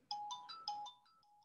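An incoming phone call rings with a bright electronic ringtone of quick, repeating melodic tones. It is close and clear, with no voices over it.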